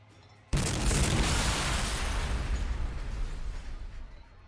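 Artillery explosions in the strategy game Warhammer 40,000: Sanctus Reach, a sudden loud boom after a brief quiet moment, then a long, dense rumbling roar of continuous blasts that fades slowly.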